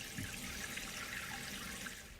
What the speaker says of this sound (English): turn on the water supply valve and the tank will begin to fill